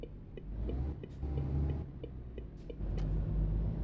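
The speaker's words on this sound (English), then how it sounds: "I feel like this truck sounds different." Truck engine in the Euro Truck Simulator 2 game, a steady low rumble that swells and eases across the clip, with faint ticking and clicks on top.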